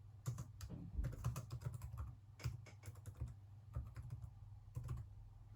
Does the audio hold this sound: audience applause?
no